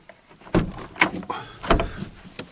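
The back door of a self-built camper van opens with a few scraping, rattling knocks and a soft rubbing swish, close and moderately loud.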